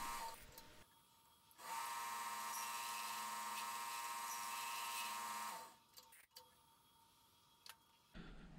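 A wood lathe spins as a gouge cuts the upper part of a large epoxy-pour vase, making a steady high whine that rises suddenly, holds for about four seconds and then stops, with quiet taps after.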